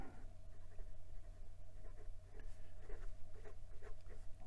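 A Leonardo fountain pen fitted with a Jowo nib scratches softly across paper in quick, irregular strokes, faint and close, over a low steady hum.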